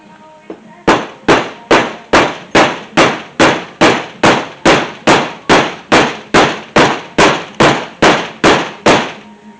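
A hammer strikes metal in a fast, steady series of about twenty sharp ringing blows, loud and close, with no talking, while a steering box is changed on a 1968-81 C3 Corvette; the hammer is bending.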